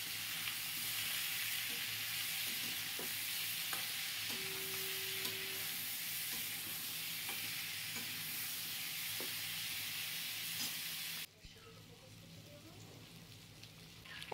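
Chhana and pointed gourd fry in a pan with salt and turmeric, sizzling steadily and close up with light stirring scrapes, until the sizzle drops away abruptly near the end.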